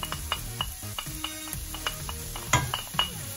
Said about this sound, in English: And now we're gonna fry the onion a bit.